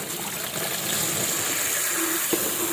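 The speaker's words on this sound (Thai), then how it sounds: "ใส่กระชอนแบบนี้ แล้วก็เปิดน้ำใส่" Tap water pours steadily from a faucet onto cut caladium tuber pieces in a colander, a continuous broadband gush close by with a brief faint clink near the end, no speech.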